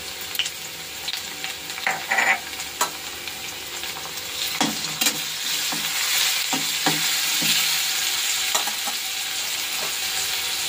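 Small fish frying with onion and grated garlic in a karai, a constant close sizzle broken by repeated scraping clicks and knocks of a spatula stirring the pan, with no speech.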